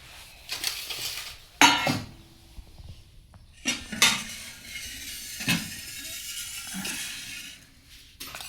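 Brass dishes and pots are handled in a home kitchen, giving a few sharp, close clinks and clatters separated by quiet pauses.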